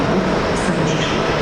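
Loud, steady interior rumble of a Stadler long-distance train running between Kraków and Łódź, a dense continuous roar with no distinct clacks.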